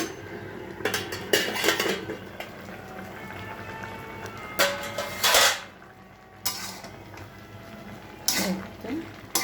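A metal lid clatters as it is lifted off a cooking pot of pumpkin and Malabar spinach with prawns. Several sharp clanks and scrapes come close by over a low background hum.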